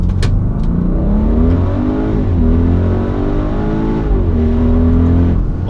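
An Audi RS Q8 engine held against its rev limiter in manual mode, a loud steady drone that climbs and bounces off the limiter in repeated surges, close and alone.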